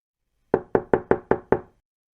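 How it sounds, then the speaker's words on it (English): Knocking on a door: six crisp, close raps in a quick, even rhythm, heard alone against silence. "There was a knock on the door."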